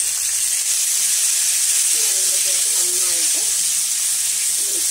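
Rose apple pieces sizzle in hot coconut oil for a homemade rose apple pickle, a steady broadband frying hiss filling the whole stretch with faint stirring scrapes beneath it.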